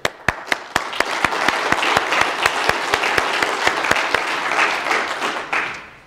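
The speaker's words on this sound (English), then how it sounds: "I would like to give them a round of applause for supporting us here." An opening-session audience at a sound engineering summit applauds its sponsors. Sustained, dense clapping from many hands fills the room, starting with a few distinct early claps, then building into steady applause that fades near the end.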